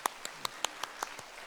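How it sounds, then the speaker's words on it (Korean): A church congregation claps in welcome, seven distinct claps spaced evenly and fading slightly, faint and somewhat distant in a quiet hall. "박수로 환영할까요?"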